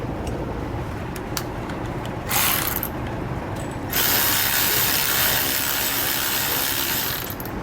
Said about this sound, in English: You're going to use a 3/8 socket to snug it down.